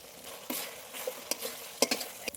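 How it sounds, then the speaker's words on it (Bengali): A fried spice mix with sour yogurt is stir-fried for chicken roast in a pan, with a soft sizzle broken by several sharp spatula scrapes and clinks against the pan, close and moderately quiet. "এই যে মশলাটা ভালো করে কষানো হয়ে গেছে উপর দিয়ে তেল ছেড়ে দিয়েছে"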